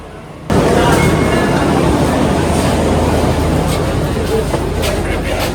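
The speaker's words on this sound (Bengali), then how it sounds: "এই যে মেট্রো এসে গেছে" A sudden loud roar of a Delhi Metro train rolls into a station and continues as a steady rumbling drone, close and heavy.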